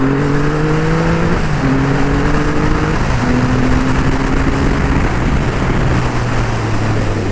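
A Triumph Rocket III GT with its 2500cc engine roars loudly while riding, revving up through gears in stepped pulls, with the engine note dropping and rising between shifts, steady and close.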